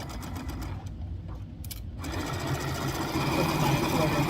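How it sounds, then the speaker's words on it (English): A sewing machine stitches fabric pieces for a Valentine gnome craft. After a short quieter stretch, its steady mechanical whirring runs continuously up close. "And then we're going to sew these."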